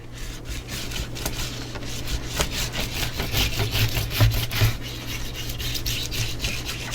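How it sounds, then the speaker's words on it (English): Steady rubbing and scraping of a burnishing tool pressing glued paper down onto a mini album cover, a continuous close friction sound with repeated strokes and no talk. "let's go ahead and burnish down"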